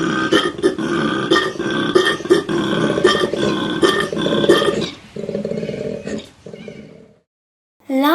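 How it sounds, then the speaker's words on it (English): A koala bellows in a run of deep, rasping, snoring grunts for about seven seconds. The calls are loud and close, then a short silence follows and another sound begins. "Koala, bellow,"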